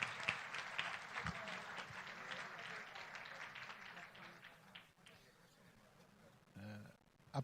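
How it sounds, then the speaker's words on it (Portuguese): An audience at the Instituto Silva Neto event applauds to welcome Dr. Silva Neto, a broad patter of clapping that thins and fades toward the end, leaving faint room noise and a brief thump. "Vamos receber com uma salva de palmas calorosa nosso amigo doutor Silva Neto"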